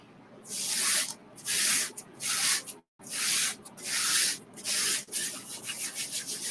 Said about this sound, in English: I'm really going to burnish where the design is